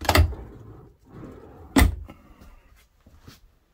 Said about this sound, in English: pull out drawer.